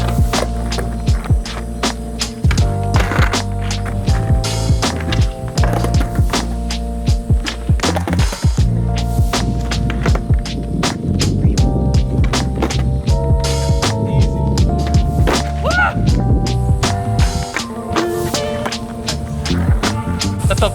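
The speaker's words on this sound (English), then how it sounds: "So I'll try the pop shove-it because I want to end on the kickflip." Skateboard pop shove-it and kickflip attempts, with repeated board pops, clacks and wheel rolls against a steady electrical hum, sharp impacts scattered irregularly throughout.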